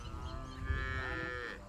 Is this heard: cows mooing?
yes